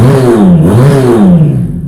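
A Ducati replica sport motorcycle engine revs loud and close, its pitch climbing and dipping in a couple of quick throttle blips with no talking.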